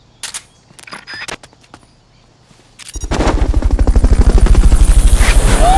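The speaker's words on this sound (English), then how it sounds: "Fulton recovery subject confirmed onboard helicopter." Helicopter in the video game Metal Gear Solid: Peace Walker, a loud rapid rotor chop that starts abruptly after a few scattered clicks and pops and continues steadily.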